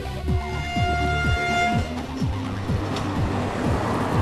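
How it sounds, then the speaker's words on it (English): A small sugarcane train in Fiji hauls cars of hand-cut cane to the mill. It sounds loud and close, with a steady rhythmic clanking and rumbling, and wind buffets the microphone throughout. "What a noisy sugarcane train!"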